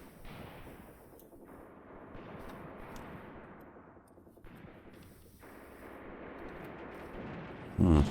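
Artillery fires in the World War II tactics game Graviteam Tactics, with rumbling distant blasts and low booms rolling under a battlefield ambience and a sharper thump at the very end.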